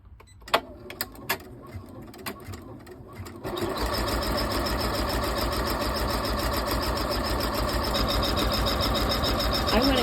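An embroidery machine stitches out a zipper purse with vinyl panels. A few isolated clicks come first, then a steady, loud, rapid mechanical whir of the needle runs on without pause.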